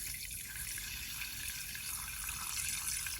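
Fresh water runs into a pet container during collection maintenance, a steady close hiss of filling water with no talk over it.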